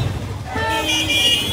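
Heavy road traffic with a car horn sounding, a loud sustained honk over a dense engine rumble close by, with a voice faintly underneath.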